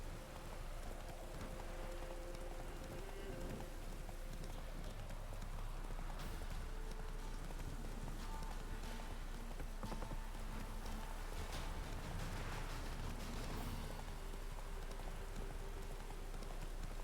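A horse's hooves clip-clop steadily along a path in a video game with a witcher and monsters, at a moderate pace under a constant patter of rain, fairly quiet and continuous.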